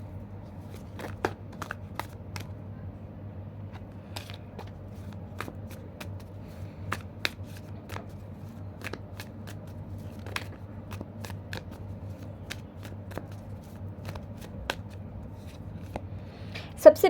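Tarot cards are shuffled in sparse, soft riffles and taps over a steady low hum, with faint clicks scattered across the stretch.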